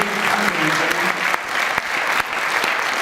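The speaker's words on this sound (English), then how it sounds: "one last round of applause" Steady applause from a cinema audience, dense continuous clapping throughout with a few sharper claps standing out near the front.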